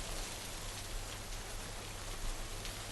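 Rain falls in a steady, even hiss at a soft, distant level, unbroken and with no voices over it.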